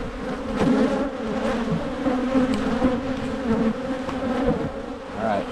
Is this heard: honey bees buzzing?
yes